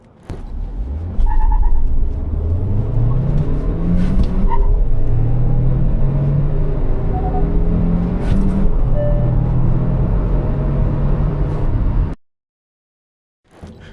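A Kia Carens Clavis with a petrol engine and manual gearbox accelerates hard from standstill to 100 km/h. The engine note climbs through several gear changes, loud and steady, and ends in a sudden cut.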